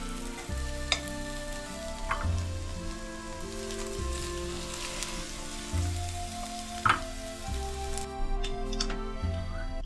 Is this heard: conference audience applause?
no